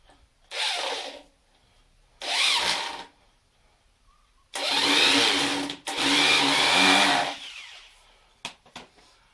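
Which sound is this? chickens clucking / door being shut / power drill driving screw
power drill driving screw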